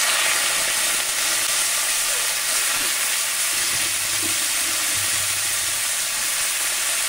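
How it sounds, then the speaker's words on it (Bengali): Vegetables sizzle and fry steadily in a pan after a tempering of whole cumin and a dried red chilli. The loud, continuous hiss stays close, with occasional low stirring thumps and no talk. "বাকি সবজিগুলো দিয়ে আমি এই বাকি সবজিটা খুব ভালো করে কষিয়ে নেব"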